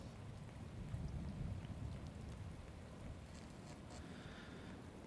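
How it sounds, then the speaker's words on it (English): Steady rain pours throughout a stormy night scene in the video game Shadows of Doubt, with a low rumble of thunder rolling underneath, constant and moderately loud with no voices. "Ooh, crackle of lightning there."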